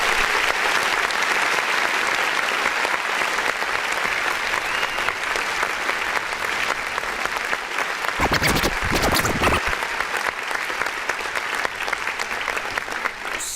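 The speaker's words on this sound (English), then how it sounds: "Let's go ahead and clap for it first." Dense, loud applause from a crowd fills the whole stretch without a break, with a brief burst of louder noise partway through.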